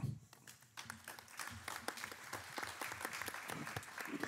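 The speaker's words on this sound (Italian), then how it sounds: "Facciamo un applauso finale collettivo" An audience applauds at the close of a conference session on contemporary conflicts and wars. The clapping is dense and steady, made of many distinct claps, and carries on for several seconds with no talk over it.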